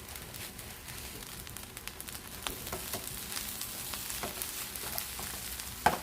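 Green onions and seasoning frying in a pan of Ghanaian egg fried rice, giving a steady, fairly quiet sizzle with scattered crackles and one sharper pop near the end.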